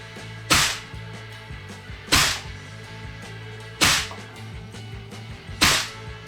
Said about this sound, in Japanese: セミオートで10発計測します。